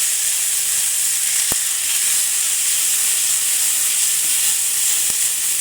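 Onions sizzle and fry in a cast iron pan outdoors at a camp, a loud, steady, close hiss of frying that holds constant throughout, with a couple of faint clicks and no talking.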